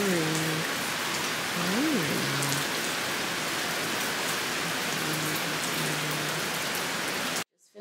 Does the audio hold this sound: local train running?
no